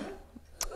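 A single short cough, apparently from a man, sounds partway through, followed by a brighter breathy burst, set against quiet background noise in a Turkish grocery store.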